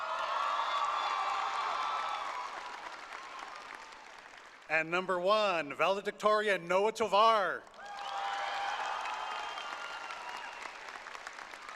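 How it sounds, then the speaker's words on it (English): Graduation crowd applause for the top seniors at Parkland High School's 2025 ceremony fills the hall before and after a man's announcement, which briefly interrupts the clapping and cheering in the middle. "Please give them one more round of applause"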